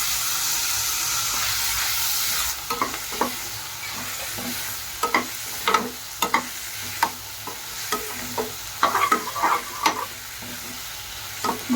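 Onions and tomatoes for chicken biryani sautéing in a pan. A loud, steady sizzle gives way to quieter frying, punctuated by irregular spatula scrapes and clanks against the pan, close up with no voices.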